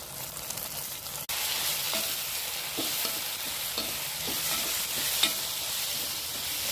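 Onions and tomatoes fry with a steady sizzle in a pan, with intermittent scraping and stirring, close and continuous, with no talk.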